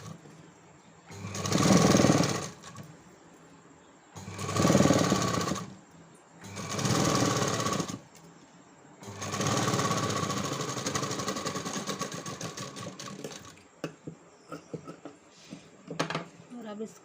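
A sewing machine stitches a waist belt onto a boat-neck blouse in three short loud bursts, then runs in one longer steady stretch, with a few faint clicks as it stops.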